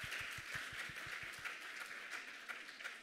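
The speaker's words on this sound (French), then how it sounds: "vous avez droit encore un peu d'applaudissements" Applause from the audience at a national youth award ceremony, a steady patter of many hands clapping, a few sharp individual claps standing out near the start, heard at a modest distance.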